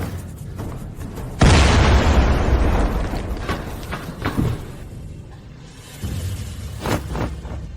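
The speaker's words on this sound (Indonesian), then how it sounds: "Di sini ledakan di mana-mana." A loud explosion inside a building, with a sudden deep boom and long roaring rumble, followed by scattered debris clatter and smaller bursts.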